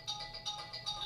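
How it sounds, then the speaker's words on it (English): A mobile phone ringtone chimes in a repeating pattern of bright tones, moderately loud and steady for about a second. "That's my phone."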